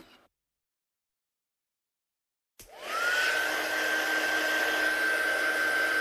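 A heat gun starts up after a stretch of near silence and blows a steady, loud hiss with a rising whine while drying paint on a craft project.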